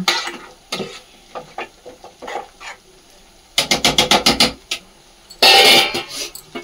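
Chicken fry cooks in a kadai, with a steady sizzle broken by loud bursts of rapid scraping and stirring against the pan. A harsher, louder scrape comes near the end.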